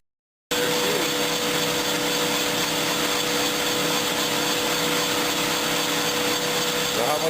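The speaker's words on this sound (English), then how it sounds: "starts up the machine, and it'll just go around and around as it automatically goes down through the whole cylinder to the end" A machine-shop boring machine cutting automatically down through an engine cylinder starts abruptly after a brief silence, then holds a loud, steady, dense grinding drone with a faint high whine above it.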